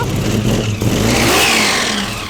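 A Honda car engine, just repaired after a knocking fault, revs loudly and steadily up close, its pitch rising and holding in a continuous roar with no talk over it.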